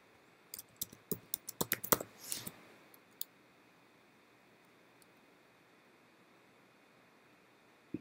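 Keys on a computer keyboard click in a quick, close run of about a dozen taps, then stop, leaving faint room hiss with one last isolated click at the end.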